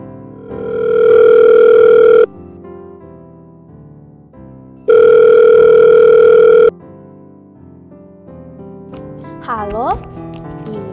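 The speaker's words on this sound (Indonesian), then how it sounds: "Tiba-tiba telepon rumah pun berdering." A home telephone rings in two long, loud electronic bursts separated by a pause, heard during a school Christmas play, with a brief voice and faint rustling following the second ring.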